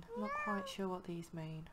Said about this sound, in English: that was my cat Milo in real life